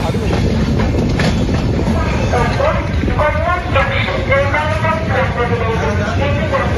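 The Vivek Express rumbles along in a steady loud roar, wheels rattling over the rails with a rhythmic clatter and a high metallic whine on top, while voices talk faintly beneath the din.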